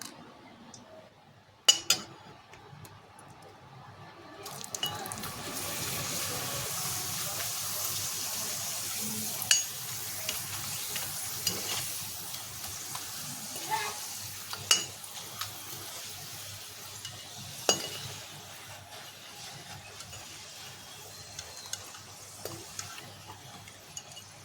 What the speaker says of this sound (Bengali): এইভাবে আমি সব পাঁপড়গুলোই ভেজে নেব।